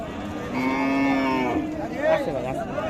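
A very thin, bony cow at a livestock market gives a close, drawn-out moo followed by a shorter rising call, standing out clearly over faint background noise.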